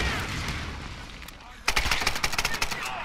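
Burst of gunfire in the Tomb Raider video game, a rapid volley of sharp shots that starts suddenly after a quieter stretch of game ambience, loud and close.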